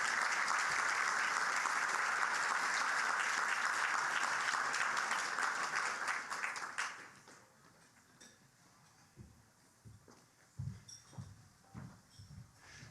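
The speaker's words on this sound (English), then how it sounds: "Give them a round of applause." Audience applause at a debate event, a dense, loud wash of clapping filling the room for about seven seconds before stopping abruptly, followed by near-quiet with a few faint scattered knocks and shuffles.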